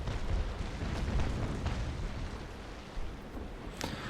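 Naval cannon broadsides in the sailing-ship game Naval Action, a dense rumbling roll of booming shots blurred together under steady low ambience, with a sharper crack near the end.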